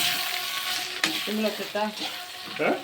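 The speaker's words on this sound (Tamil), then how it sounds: "அப்படியே பரோட்டாவை போட்டு ஒரு கலர் ஒரு கலர் மட்டும் கலரிக்கிறோம்" Parotta fried and stirred in an oil-filled pan, a steady close sizzle with a few brief scraping stirs, nobody talking.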